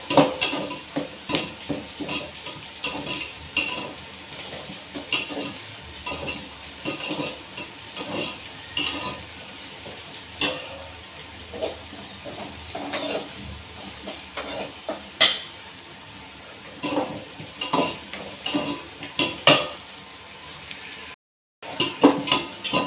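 Onions and green chillies sizzle and hiss in a hot pan while a spoon scrapes and clatters against the metal in steady, repeated stirring strokes, close and fairly loud throughout with no talking.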